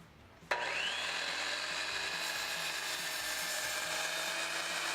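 A saw starts abruptly and cuts through wooden pieces held on a guide while building a kamado grill table, a loud sustained whine with steady grinding texture.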